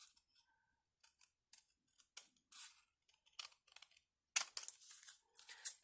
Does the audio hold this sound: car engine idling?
no